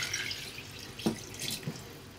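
Water poured from a tap over veal paupiettes in a pot, a faint running trickle with a couple of brief splashes, no talk.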